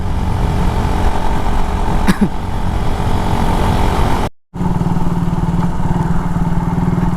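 A Radier 150 motorcycle engine with a damaged piston runs loudly close by, with a brief rev and a short dropout partway through.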